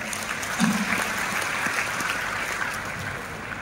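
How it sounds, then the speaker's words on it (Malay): Steady, dense applause from a large audience at a business gathering, a continuous wash of clapping that holds at a constant level throughout. "Beri tepukan kepada anda."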